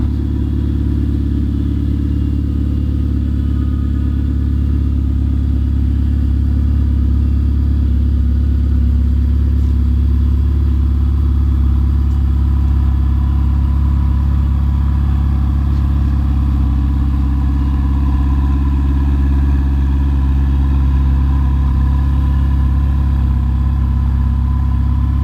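A 2019 Ferrari 488 Pista sits running at an auction in Kissimmee, Florida, its engine holding a loud, deep, steady idle throughout with no change in pitch.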